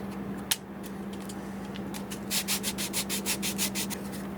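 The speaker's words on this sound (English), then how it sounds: "I gotta sand that out a little more." Rosewood on a Taylor guitar being sanded by hand: a rapid run of short, bright rasping strokes in the second half, close and steady over a low constant hum, with one sharp tap near the start.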